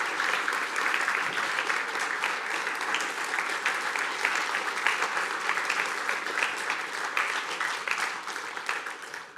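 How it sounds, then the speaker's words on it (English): An audience claps after a science lecture on quarks and superconductors, sustained and even applause filling a hall at moderate distance, with no letup for the whole stretch. "I think that may be the longest applause in the history of BrisScience"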